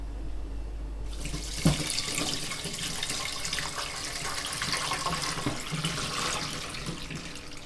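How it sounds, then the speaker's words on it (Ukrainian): Homemade cherry liqueur, steeped on vodka, pours in a steady, close trickle into a flask, a continuous splashing wash running unbroken for several seconds with no voices. "тепер я заливаю фляжку"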